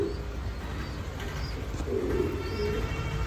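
Pair of Bombay fancy pigeons cooing, soft low coos repeating over a faint background hum, with a few higher chirps nearby.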